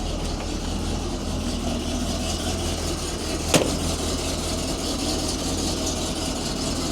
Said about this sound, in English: Let's see if it cranks up this morning.